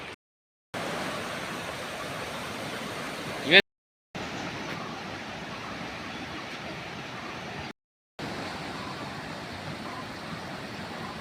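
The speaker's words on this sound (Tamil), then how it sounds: "இது வந்து இதான் புல்லாவளியோட ஃபால்ஸோட அருவின்னே சொல்லலாம்." Pullavali waterfall in the Western Ghats, heard as a steady, broadband rush of falling water at moderate distance, broken by a few brief gaps of silence.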